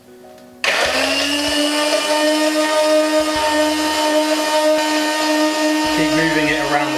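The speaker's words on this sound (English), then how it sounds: "So with your stick blender on the sort of highest setting that you've got" A stick blender on its highest setting starts abruptly and whirs loudly at a steady high pitch while blending vegan mayo in a jug, a continuous motor whine with slight changes as it moves.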